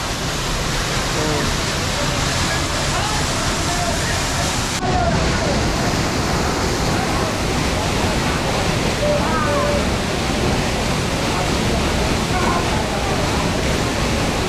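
Loud, steady roar of water pouring down hard from above, a constant dense rush that drowns out everything nearby.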